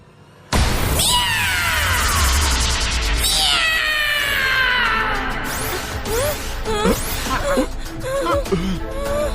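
A cartoon cat magician lets out loud, drawn-out meows and wavering caterwauls, several cries in a row with rising and falling pitch, close and alone.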